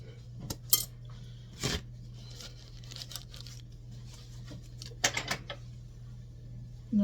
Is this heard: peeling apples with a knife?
yes